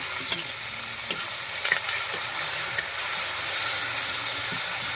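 Pieces of pork fry in a pan with a steady, even sizzle and hiss, broken by a few soft knocks of stirring, with no voices.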